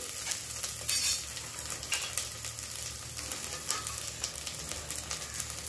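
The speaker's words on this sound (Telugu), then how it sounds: "దీన్ని బాగా ఫ్రై చేసుకొని" Ingredients for a vegetable and egg biryani fry and get stirred in a pan, with a steady close sizzle under frequent scraping stirs of a utensil against the metal.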